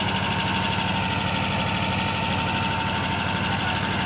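An Escort 335 tractor engine runs steadily while tipping a loaded trolley, a loud, constant, throbbing diesel drone heard close up with no talk.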